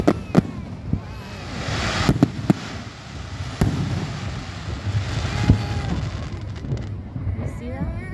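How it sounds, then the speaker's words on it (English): Fireworks rockets bursting during a grand finale display at North Palm Beach, with sharp cracks and booms layered over a continuous rumble of explosions, loud and dense throughout, with excited voices in the crowd nearby. "That's what the rockets look like going off."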